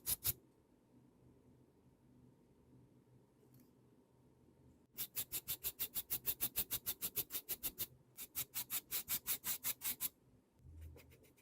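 Dirty parts of a Moser hair clipper are scrubbed with a toothbrush or wire brush in quick, rhythmic rasping strokes, two close bursts of back-and-forth scrubbing after a few isolated scrapes.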